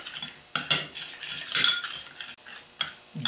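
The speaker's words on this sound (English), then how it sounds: "we're going to cut it with about an equal amount of mayonnaise and just thoroughly mix" Pasta being mixed thoroughly with mayonnaise in a bowl, with repeated close clinks and scrapes of a utensil against the dish in an uneven rhythm.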